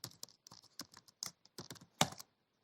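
Quick bursts of keystrokes on a computer keyboard while entering Python pandas code, irregular clusters of clicks with brief pauses and one louder press near the end, close and alone.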